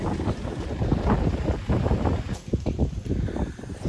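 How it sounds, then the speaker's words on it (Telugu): Strong wind gusts buffet the microphone at a high valley viewpoint, a continuous rough roar that swells and dips, loud and close. "నిజంగా వాళ్ళు ఎంత గాలి వస్తున్నది. లిటరల్లీ నా వాయిస్ కనబడతలేదు"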